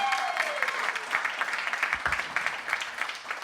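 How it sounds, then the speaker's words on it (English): Podcast live-show crowd applauding, a moderate steady patter of many hands at middling distance, with a brief low thump partway through. "Give him a big round of applause."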